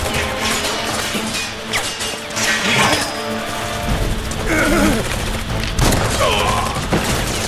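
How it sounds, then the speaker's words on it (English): Gunfire in the Final Fantasy VII Remake video game: dense bursts of shots and crashing impacts mixed with mechanical clatter and background game music, loud and continuous throughout. "nice shooting, Tex."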